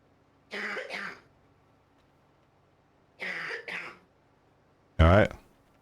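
Two bouts of coughing a few seconds apart, each a quick double cough, followed by a louder single throat-clearing cough; quiet between them.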